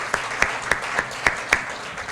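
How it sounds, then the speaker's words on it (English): Audience applause at the Genesee County YWCA Women of Inspiration Awards 2024, honoring youth workers: sharp, evenly spaced claps at a steady beat, moderately loud and close, with no voices over them. "So I want to give them all a round of applause."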